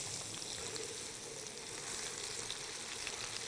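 A piece of chicken seasoned with paprika sizzles and fries steadily in a hot pan, a close, constant crackling hiss with no talking over it.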